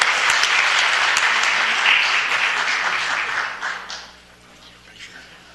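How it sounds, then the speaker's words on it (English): A round of applause at a city council meeting, dense clapping from a crowd, steady and loud, then tapering off toward the end. "Let's give them another round of applause."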